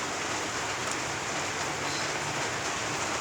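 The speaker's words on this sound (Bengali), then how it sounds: "বৃষ্টি পড়ছে বাইরে, দেখো বৃষ্টি পড়ছে" Rain falling outside at midnight, an even, unbroken hiss of drops that stays at the same level throughout, with no voices.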